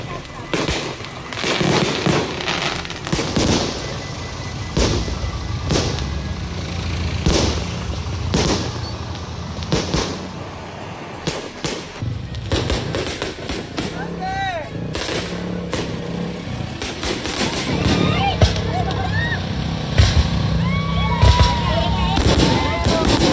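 Fireworks at an evening display in San Rafael, Bulacan go off as a long series of sharp, booming bursts. Some are loud and close and others farther off, with crackles and whistles toward the end and some voices in the background.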